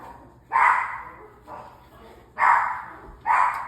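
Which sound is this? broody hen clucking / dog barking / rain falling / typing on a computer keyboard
dog barking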